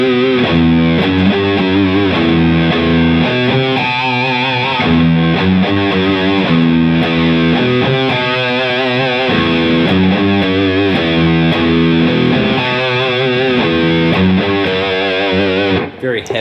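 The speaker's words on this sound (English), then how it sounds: "Heavy sounding riff, a lot of distortion on the amp here." Electric guitar playing a slow, heavy riff through an amp with heavy distortion, chunky sustained notes and chords ringing loud and close, with no talking.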